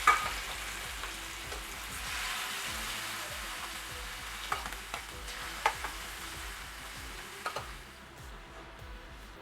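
Prawns half-fry in coconut oil for a Kerala-style roast, a soft steady sizzle with scattered light clicks and scrapes as they are stirred in the pan, fairly quiet and close.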